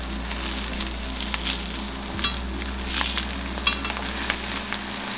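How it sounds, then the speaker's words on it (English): A salted mackerel fillet fries skin side down in a pan, giving a close, continuous sizzle with scattered pops and crackles over a low steady hum. "Skin side first. Then cover and cook each side for 4 to 5 minutes."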